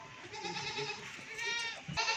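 Young goat kids drinking milk at a goat farm, with faint bleating and soft suckling sounds over a steady background hiss, fairly quiet and close, with no talking.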